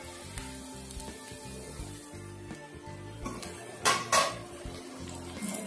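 A metal pot lid is lifted off cabbage cooking for pickle, giving a brief clattering clank partway through over a steady low sizzle and simmer of the pan, with no talking.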